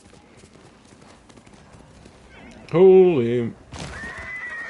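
Horse hooves clip-clop softly in Ghost of Tsushima before a loud, close whinny rises and falls, followed by a bright high ringing tone; someone talks briefly.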